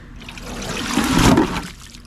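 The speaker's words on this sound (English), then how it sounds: "Ah, big splash." A Pontiac 400 engine part drops into a kerosene cleaning bath with one close liquid splash that swells and then settles into a short trickle.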